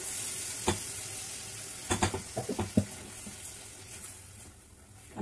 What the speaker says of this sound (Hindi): अब इसको पकने देंगे अच्छे से, जब तक तेल ना छोड़ दे टमाटर मसाला पूरा।